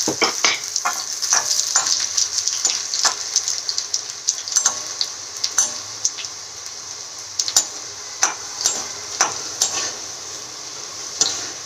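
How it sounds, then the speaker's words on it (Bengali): Dried red chillies, nigella seeds and chopped garlic fry in hot oil with a close crackling sizzle, broken by repeated sharp spoon scrapes and taps against the pan at an uneven rhythm. "দুটো ফাটিয়ে রাখা শুকনো লঙ্কা দিয়ে দিলাম কালো জিরে এবং এই রসুনের কুচি কটা"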